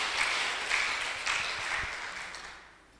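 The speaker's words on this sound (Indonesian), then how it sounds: "Tepuk tangan" Applause from a church gathering, a moderate burst of many hands clapping that swells in a few waves and then fades away toward the end.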